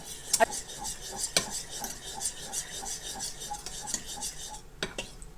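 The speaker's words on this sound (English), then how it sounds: "Stir it up." A utensil stirs paprika and ketchup sauce in a bowl, giving repeated scraping, rasping strokes with occasional sharp clinks against the side. The sounds are close and fairly quiet, with no speech.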